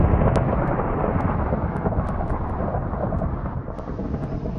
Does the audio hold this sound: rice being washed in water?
no